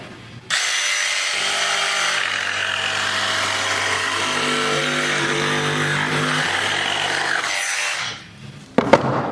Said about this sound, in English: we will start with the Dewalt saw and the Dewalt saw blade